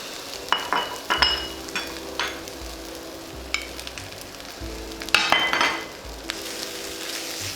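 Meat sizzles in hot lard in a pan for homemade fried rice, a steady frying hiss broken by repeated scraping and stirring strokes and light clinks of a utensil against the pan.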